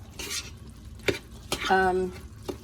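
Pico de gallo is tossed together with salt by hand in a bowl, giving soft wet squishing and stirring sounds with a few sharp clicks, close and moderately loud, with a voice-like tone briefly in the middle.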